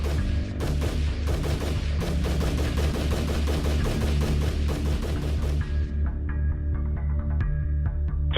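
Rapid semi-automatic gunfire from a Bushmaster rifle, a dense fast string of loud sharp shots over about six seconds, then a few scattered cracks amid a low hum.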